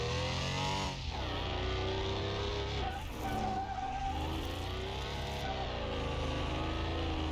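Car in Car Mechanic Simulator 2021 sliding in oversteer with the handbrake, tires squealing in long wavering pitches over a steady engine drone, with several sharp shifts as the slide changes.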